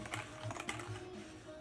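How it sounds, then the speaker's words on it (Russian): Typing on a VGN N75 Pro mechanical keyboard, a hefty board of about 1.3 kg, with a steady run of close, clicky keystrokes clattering at an even pace, no voices. "Клавиатура очень приятная на ощупь, увесистая."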